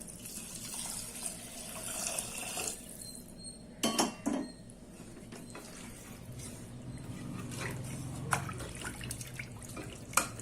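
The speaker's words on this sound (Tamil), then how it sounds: "இப்போ தண்ணி ஊற்றிக்கலாம்." Water pours into a pressure cooker for plain kuska biryani in a home kitchen, a soft steady splashing with a few sharp metallic clinks of pots and utensils, fairly quiet throughout.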